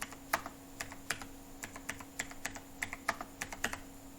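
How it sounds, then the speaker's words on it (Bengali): Keys clack on a computer keyboard in an irregular run of a dozen or so crisp taps as an Aadhaar number is typed into an India Post online recruitment form, close and clear over a steady electrical hum, with no talking. "প্রথমত আপনি আপনার আধার নম্বরটা এখানে এন্টার করে দেবেন"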